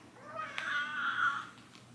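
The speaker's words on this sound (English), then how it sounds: "You don't have to meow like that." Loud, insistent indoor cat meow, a single stretched cry nearby that rises and holds before fading, with a brief knock partway through.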